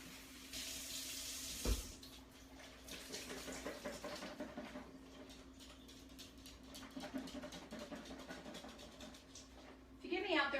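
Tap water runs steadily into a kitchen sink as tomatoes are rinsed under it, a continuous splashing hiss with a few sharper clatters, while a person talks over it.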